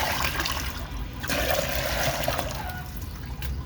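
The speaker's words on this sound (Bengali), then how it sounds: "এই দেখেন গরম পানি দিচ্ছি" Hot water pours into a container for chickens in a poultry shed, a steady splashing trickle lasting a few seconds, close and moderately loud, with no voices.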